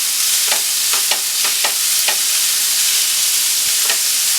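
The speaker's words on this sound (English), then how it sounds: "we're going to chop this up a little bit and then kind of press it down into the veggies" Pork fried rice with vegetables sizzles steadily in a hot pan, with a utensil chopping and pressing through it in several sharp scrapes and taps. The frying is loud and close, and no one talks.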